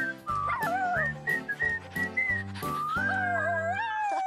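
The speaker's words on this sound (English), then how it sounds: "We were just whistling a tune together" A bright melody whistled over a steady musical backing, the tune gliding and repeating phrase by phrase, close and clear.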